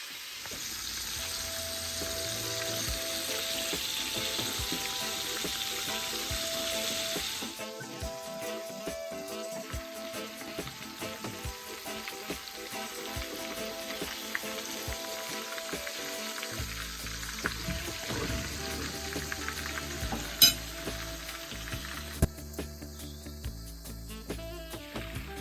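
Jamaican fried chicken sizzles steadily in oil in a pot, a dense continuous crackle with occasional sharper pops and a shift in texture partway through.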